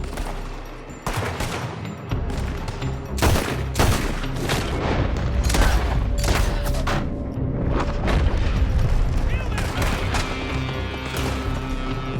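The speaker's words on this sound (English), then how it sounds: "They're shooting from that building." Heavy gunfire pours from a building during a Red Dead Redemption 2 shootout, with dense, overlapping rifle and pistol shots and booming blasts running loud and continuous throughout.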